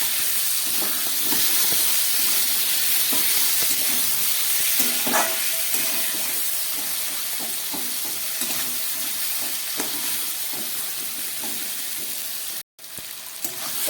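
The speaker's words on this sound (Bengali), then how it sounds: "এবার দিয়ে দিচ্ছি একটু টমেটো" Tomato, potatoes, peas and cabbage fry in a pan, giving a steady, close sizzle and hiss throughout with occasional light stirring clicks and a brief break near the end, no talking.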